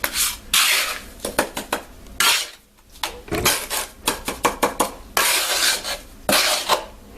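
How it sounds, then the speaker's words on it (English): Portland cement mixed two-to-one is worked into concrete cracks with a tool, giving a series of close, irregular scraping and rubbing strokes with short pauses between them. "And I fill them cracks in"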